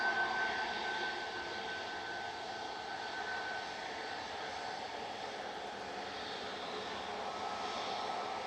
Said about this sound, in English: That was BA heading back to London Heathrow, A320-200 GEUUJ, flight 1385.